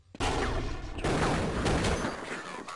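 Dense, continuous gunfire from an esports Counter-Strike match on de_nuke, played loud and close throughout with overlapping bursts and a sharp onset, with no talk over it.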